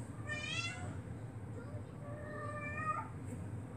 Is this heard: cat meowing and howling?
yes